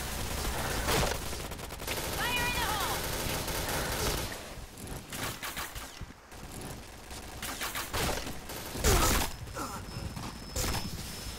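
Gunfire in the online shooter Point Blank crackles in dense bursts and single sharp shots over a busy game soundscape, fairly loud and continuous with metallic mechanism clicks.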